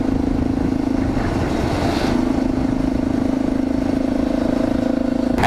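Honda CBR 650F motorcycle engine running steadily during a group highway ride, a continuous loud drone with a strong low hum throughout and no one talking.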